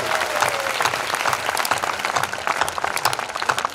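An audience claps at a Hindi poetry recital: a continuous wash of many hands, fairly loud and steady, with a few sharper claps toward the end.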